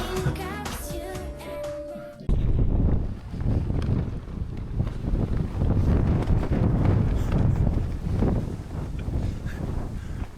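Strong wind at the seashore at night roars into the microphone in heavy, rumbling gusts after a brief quieter start, loud and constant to the end.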